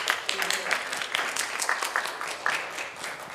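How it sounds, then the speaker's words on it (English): Audience applause at a radiology symposium: broadband clapping from a seated crowd fills the whole stretch at a steady level, with no words over it. "Please join me in welcoming Professors Murakami and Moon with a round of applause."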